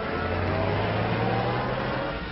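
A car engine runs steadily with a low, constant hum and rumble, continuous and fairly loud throughout, from an old 1939 film serial.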